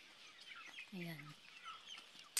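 A chicken gives a short, faint cluck at feeding time in a mountain garden, one brief call in quiet surroundings with soft background noise and a sudden clatter at the end.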